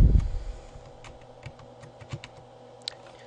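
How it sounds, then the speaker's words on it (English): A computer keyboard pressed for the Control Z shortcut, with a handful of sharp, close key clicks spaced irregularly over a quiet background after a brief low thump at the start. "Now I'm going to hit Control Z on my keyboard a couple of times"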